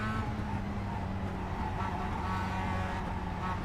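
Mazda MX-5 Cup race car engine in the iRacing sim, revving steadily at high load as it accelerates, a continuous loud drone with strong low harmonics and no talk.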